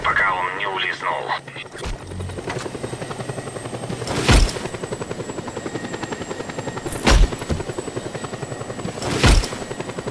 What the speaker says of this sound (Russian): Бежать в вертолете.